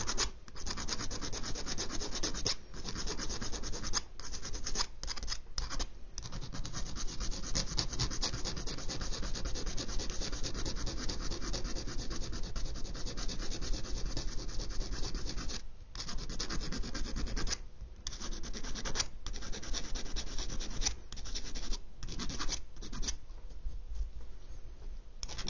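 A part of a 1/250 scale Yamato model ship is sanded by hand in close, steady rasping strokes, broken by brief pauses throughout, with no talking.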